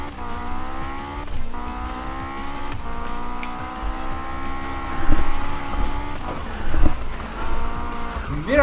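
Car drifting in Need for Speed 2015, played on a Logitech G27 wheel, its engine whining high through long gear pulls while tires squeal and skid in repeated bursts, loud and near, with no voices.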